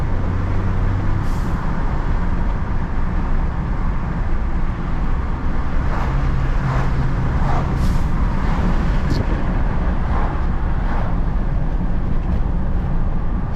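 A Ford F150 EcoBoost with a Turbosmart blow-off valve drives in second gear, a loud continuous road and engine roar with several short airy whooshes from the valve cutting through on shifts, heard from inside with windows down.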